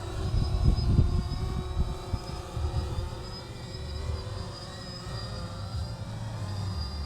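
A 3DR Solo quadcopter drone comes in to land on a home airfield, its propellers giving a steady, fairly close buzzing hum with a rumbling low end and slight shifts in pitch as it descends.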